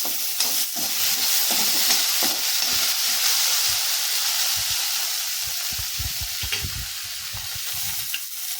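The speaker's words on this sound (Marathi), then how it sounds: "ते सर्व साहित्य थोडंसं लालसर होईपर्यंत आपल्याला तळून घ्यायचे आहे" Chopped tomato frying in a pan for homemade cabbage veg manchurian, a continuous loud sizzle with occasional stirring scrapes and soft clinks of a spoon, no talking.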